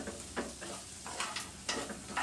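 Onions with salt stirred in a pan while cooking crab in butter, soft sizzling under a few scraping spoon strokes, quiet and close.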